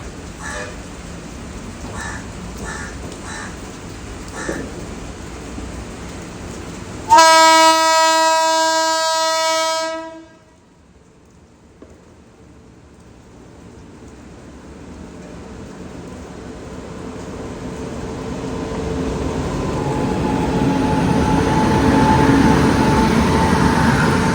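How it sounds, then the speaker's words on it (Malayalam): MEMU electric local train at a Chennai station, heard as a loud, sustained tonal horn-like blast for about three seconds, then a rising rumble of train movement building steadily, with crows cawing faintly beforehand. "ഇതാണ് ആ മെമു ട്രെയിൻ കേട്ടോ"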